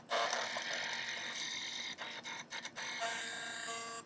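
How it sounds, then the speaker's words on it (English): A Yongnuo YN660 speedlite's zoom head motor drives its head through its range, a steady close whirring buzz with brief stutters and a slight pitch change near the end. "Let me click on the zoom here."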